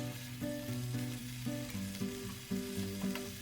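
Mixed vegetables for a Chinese-style stir fry sizzle and are tossed in a hot pan, a steady close frying hiss with brief stirring bursts, heard under a melodic music track.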